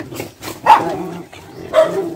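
Several dogs bark excitedly in greeting, a few close, loud barks and yips spaced irregularly with quieter whimpering between.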